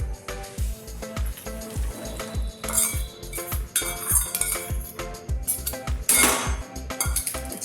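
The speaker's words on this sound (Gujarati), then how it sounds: "પછી આ બધું આપણે મિક્સ કરી લઈશું। સરસ રીતે આપણે મિક્સ કરી લેવાનું" Dry fruits mixed into dates roasted in ghee, a spatula knocking and scraping a pan in quick, steady beats with occasional metallic clinks, close by, for nearly eight seconds.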